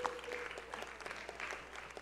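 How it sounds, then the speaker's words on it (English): Faint, distant applause from participants at a public conversation on a draft national culture and arts policy, a thin patter of claps lasting about two seconds. "I think you need to give yourselves a round of applause."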